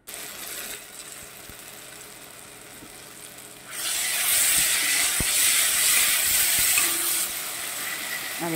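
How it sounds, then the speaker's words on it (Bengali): Water heating in a pot on a kitchen stove gives off a faint hiss that swells into a loud, steady steam rush partway through and then eases slightly. A spicy Bengali tangra fish curry is being cooked nearby. "আর এখানে আমার জল গরম হচ্ছে।"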